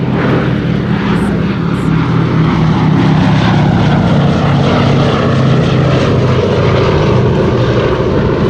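The B-17G Flying Fortress Sally B flies a display at the Duxford Air Festival 2018, its multiple piston engines and propellers giving a loud, continuous droning roar that holds steady throughout with no talk.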